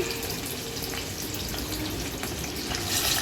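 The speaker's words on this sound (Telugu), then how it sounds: "కొద్దిగా ఆయిల్ వేసుకొని ఈ చేప ముక్కలను అయితే ఫ్రై చేసుకుంటున్నానండి" Fish pieces shallow-fry in a little oil, a close, steady hiss and crackle of sizzling that runs evenly without pause and swells slightly at the end, with no voices.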